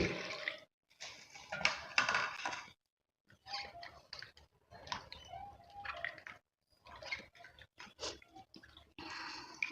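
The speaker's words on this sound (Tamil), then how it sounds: "வெந்த தண்ணி இதில் ஊற்றி நல்லா கழுவிட்டு" Hot water is poured over snakehead fish while it is being washed, heard close up as short splashing bursts separated by brief silences, with no one speaking.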